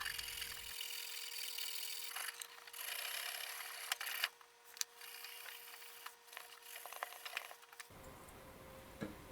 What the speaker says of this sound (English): I'm going to clean the pipe of everything, including the old solder, with some 150 mesh